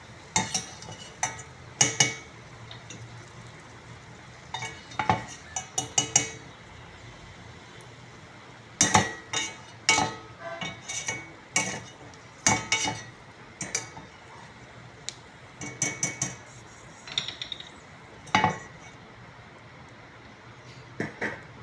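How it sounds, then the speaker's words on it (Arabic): Fried food is scooped out of butter onto a plate with a spoon, giving sharp, irregular metallic clinks and scrapes over a faint sizzle, close and fairly loud in clustered bursts. "هبدا اشيله من الزبده، صفيه من الزبده كده"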